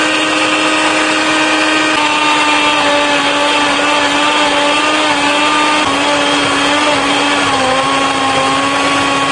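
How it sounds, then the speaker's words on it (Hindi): Mixer grinder whirring loudly and continuously while grinding chicken tikka marinade with garlic ginger paste, a steady high motor whine with slight pitch shifts. "तो अब हम इसको करेंगे ग्राइंड"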